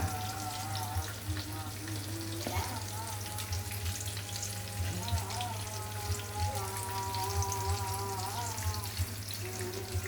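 Katla fish fries in a pan with a steady, soft, continuous sizzle over a low electrical hum, while a distant melodic voice drifts in the background.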